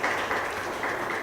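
An audience at an international scientific conference claps together. The steady applause is short and fairly close, with no pauses in it.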